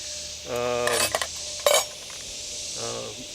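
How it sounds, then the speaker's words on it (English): Metal spoons rattle and clink inside a billy pot during a bushcraft gear rundown, arriving in several short close bursts separated by brief pauses. "I have a billy pot, and inside the billy pot, you know, spoons"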